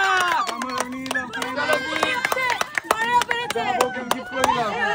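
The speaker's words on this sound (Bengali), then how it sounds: "জোরদার তালিয়া" A small group at a playful gift-choosing game bursts into applause, quick uneven claps ringing out close by while voices cheer and chatter loudly over them throughout.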